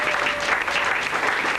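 A seminar audience bursts into loud, sustained applause, a thick, even roar of clapping hands filling the room throughout.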